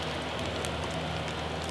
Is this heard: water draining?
no